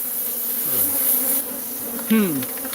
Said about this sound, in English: she's got a house full of bees